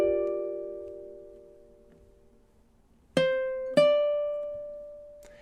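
Ukulele plays measure 17 of a song: a ringing chord fades slowly, then two plucked strums land close together and sustain, ending with a soft final touch, with no voices.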